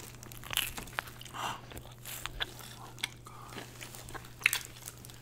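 Crunchy biting and chewing of crab during a seafood mukbang: close, crisp crackles and snaps in irregular bursts over a low steady hum, with brief chewing noises between.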